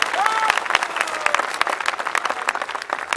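An audience at a Hindi kavi sammelan poetry recital in Gadarwara breaks into brisk applause, a steady wash of clapping with a few louder claps standing out.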